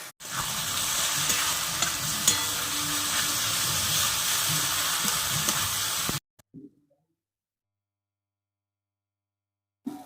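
Spices being stirred in a hot pan for a duck meat curry, a loud continuous sizzle and frying hiss with scraping stirs for about six seconds, then sudden near-silence.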